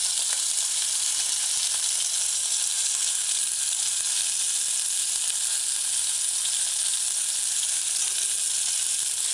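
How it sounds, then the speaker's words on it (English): Fish balls deep-frying in hot oil, a dense, steady hiss and crackle that stays loud and even from start to finish with no voices. "make sure that the fish balls are fried properly"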